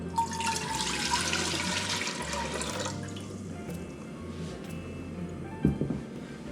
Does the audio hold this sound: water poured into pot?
yes